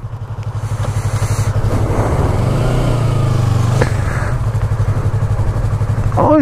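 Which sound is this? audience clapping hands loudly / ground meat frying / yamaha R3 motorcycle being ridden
yamaha R3 motorcycle being ridden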